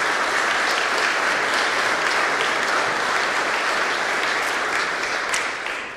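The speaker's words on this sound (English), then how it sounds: "Let's give them a round of applause" Steady applause from a crowd at a sports hall of fame luncheon, full and sustained before tapering off at the end.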